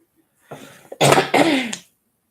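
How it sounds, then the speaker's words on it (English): A single person clears their throat twice nearby: a short rasp, then a longer, harsher one, in an otherwise quiet room. "I keep having to clear my throat."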